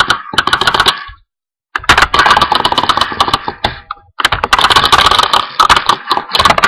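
Rapid, frantic mouse clicking while playing the game Bash the Computer, dense bursts of loud close clicks with a brief pause partway through and no talk.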